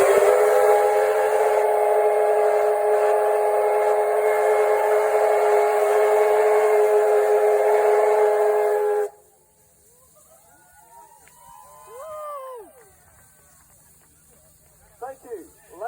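A K-Class steam locomotive whistle blows loud and sustained for about nine seconds at a railway open day, then cuts off, leaving quieter crowd sounds and a voice speaking.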